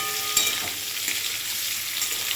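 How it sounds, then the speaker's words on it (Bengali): Soybean chunks and cauliflower fry together in oil in a pan, giving a steady, close hiss of sizzling with faint stirring clicks and no talk. "একসঙ্গেই কপি আর সয়াবিনটা আমি ভেজে নিচ্ছি।"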